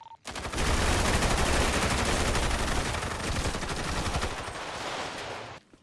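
Dense, sustained automatic gunfire in a GTA roleplay police shootout, loud and continuous for several seconds, with rapid overlapping shots before it cuts off abruptly.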